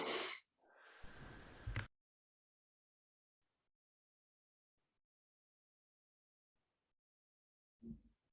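A person breathing in deeply during a breathing exercise, one strong close inhale with a wheezy, hissing rasp, then near silence and a brief breath at the end.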